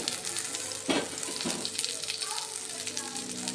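Garlic and tamarind fry in a little oil in a pan, a steady close sizzle with a couple of sharper stirring scrapes near the start, and no words spoken.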